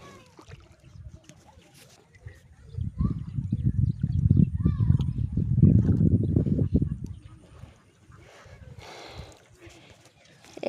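A boat travels across a flooded field toward a distant village, its low rumbling swell rising in the middle of the stretch and fading again, with quieter water sounds at either end.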